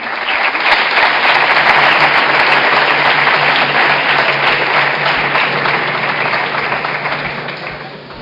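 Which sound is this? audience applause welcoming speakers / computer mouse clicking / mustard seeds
audience applause welcoming speakers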